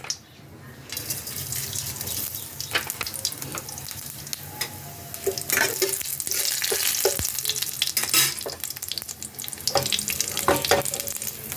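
Whole dried chilli, bay leaf and five-spice seeds sizzle in hot oil in a kadai for a methi greens dish, a steady close crackle with scattered sharp pops and spatters throughout.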